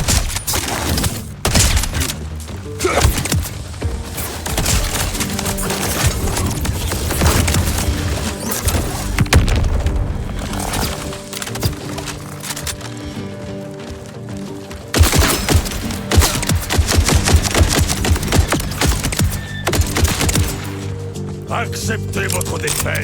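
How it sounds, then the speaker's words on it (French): Bullets fired from a metal gun barrel in a video game, a sustained barrage of rapid gunshots and thuds running loud throughout with brief pauses, mixed with game effects. "Des balles qui fusent depuis une gorge en métal."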